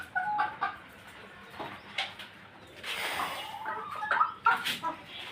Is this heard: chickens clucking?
yes